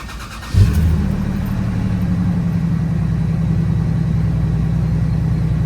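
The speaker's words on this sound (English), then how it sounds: "I'm gonna start up the engine" A 4th Gen Toyota 4Runner engine cranks and catches with a brief rev, then settles into a steady, loud idle that runs on alone for several seconds.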